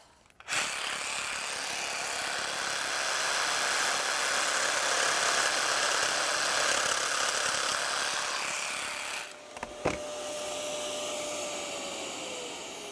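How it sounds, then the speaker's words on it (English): A jigsaw cuts through a wooden slat with a loud, continuous buzzing rasp that runs for about nine seconds. The motor then cuts off and whines down, followed by a brief clatter and a quieter hum. "using our jigsaw, we just cut this out"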